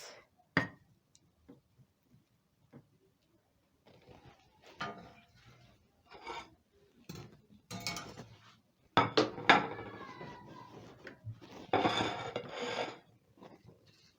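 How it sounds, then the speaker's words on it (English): Fried plantain being moved from a pan onto a plate in a kitchen: scattered clinks and scrapes of utensil against cookware, sparse at first, then a busier run of clattering and scraping near the end, close and alone. "I'm going to transfer this to a plate."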